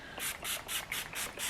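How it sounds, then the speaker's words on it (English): Six quick pumps of Ouai leave-in conditioner spritz onto hair in a steady rhythm, each a short close hiss, with no talking. "So then I just spray this"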